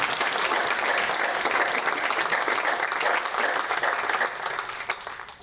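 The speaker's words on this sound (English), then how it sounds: "Let's give Mary a big round of applause." Conference audience giving a panel speaker a big round of applause, a dense, steady wash of clapping from a large crowd that thins slightly as it fades at the end.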